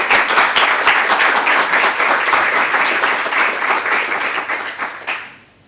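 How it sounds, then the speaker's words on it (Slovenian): An audience at an awards ceremony applauds in a dense, steady wash of clapping that holds for several seconds and then tapers off quickly to quiet. "Zdaj pa lahko zaploskamo."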